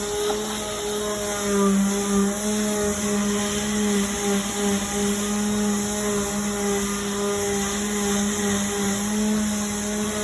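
A power sander whirs steadily on wooden bathroom cabinets, a loud continuous motorized drone with a high buzzing hum that holds for the whole stretch without pause.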